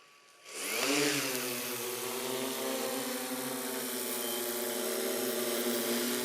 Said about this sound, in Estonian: Ja tõstame drooni õhku.